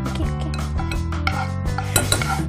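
Spoon scraping and stirring a chilli paneer mixture in a bowl, steady clinking and rubbing against the bowl throughout, close and fairly loud with no talking.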